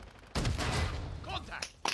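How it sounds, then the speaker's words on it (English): Rapid gunfire from a Call of Duty video game fills the mix as a dense, loud burst of shots and explosions, fading into scattered crackling, with some voice sounds underneath. "I'll wait because of all this gunfire"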